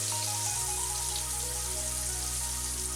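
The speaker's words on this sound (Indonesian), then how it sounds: "Goreng dengan menggunakan api kecil hingga kuning keemasan atau hingga matang luar dalam." Chicken pieces fry in oil over a low flame on a stove, a steady, dense sizzle and crackle throughout with a low hum underneath.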